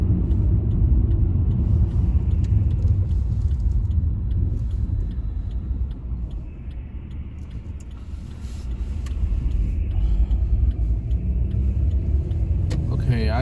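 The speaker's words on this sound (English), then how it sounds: "Traffic is much heavier." Heavy traffic on a national road in China: a steady, loud rumble of passing cars and engines that dips briefly midway, then swells again.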